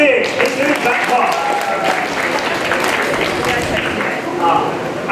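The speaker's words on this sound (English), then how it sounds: "Please clap for team number 6" A quiz audience at a school competition in North Bengal claps for team number 6, a dense, steady burst of applause filling the hall, with voices mixed into the noise.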